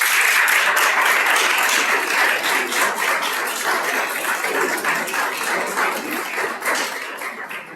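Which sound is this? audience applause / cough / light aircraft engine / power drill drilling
audience applause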